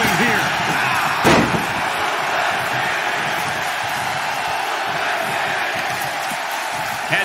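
A loud arena crowd in the video game WWE 2K22 roars and cheers as a steady, dense wash of noise throughout, with one sharp slam-like hit early on.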